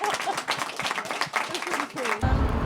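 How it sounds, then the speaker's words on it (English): An audience gives a round of applause for guest Jacob at a music masterclass, the clapping steady and fairly close, with voices talking over it and a burst of louder noise at the very end. "Can we give Jacob a big round of applause?"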